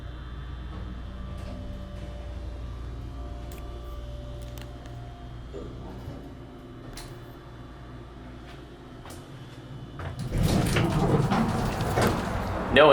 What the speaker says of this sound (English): And the door closes when you push the button.